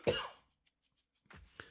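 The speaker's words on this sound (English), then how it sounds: "Let me cough. Gotta cough." A single person coughs loudly at close range, a short harsh burst, then after a brief silence another rougher cough follows.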